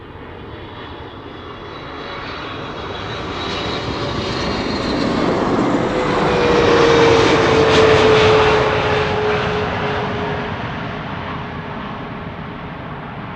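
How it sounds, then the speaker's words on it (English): A KLM Boeing 777-300 arriving from Atlanta passes overhead at Amsterdam Schiphol in sunny weather, its engine roar swelling steadily to a loud peak and then easing off, with a thin rising whine riding through the middle of the pass. "This is KLM flight 622 arriving from Atlanta,"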